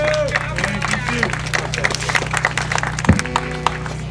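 Scattered applause from a small audience at a community group board meeting, light clapping running under a low electrical hum with a voice speaking over it.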